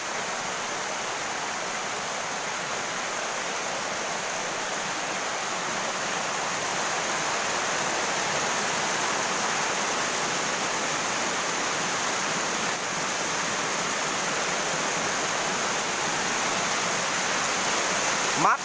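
A wild, undeveloped waterfall in the forests of Tuyên Quang, Vietnam, rushes in a loud, continuous broadband roar close by, steady throughout with no pauses.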